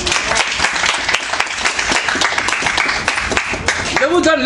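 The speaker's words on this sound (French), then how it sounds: "Acclamez le Seigneur Jésus." Loud, sustained applause from a church congregation acclaiming Jesus fills a worship conference, with crowd voices mixed in and someone speaking at the very end.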